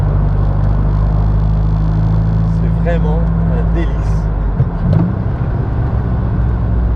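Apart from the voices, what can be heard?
Morgan Plus 4 car driving on a country road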